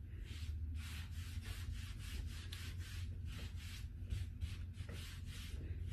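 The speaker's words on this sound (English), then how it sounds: "So I'm going to continue to scrub" A brush scrubs white paint into a wooden board with the grain for an antique white finish, giving steady, rhythmic back-and-forth strokes that stay close and fairly loud, with no talking.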